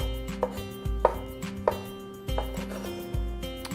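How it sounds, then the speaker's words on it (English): Knife slicing large olives on a cutting board, a series of crisp chopping taps at an uneven rhythm over a steady low background hum, close and alone without talk. "Giving my olives here just a little slice, maybe into thirds, depends on how big your olives are."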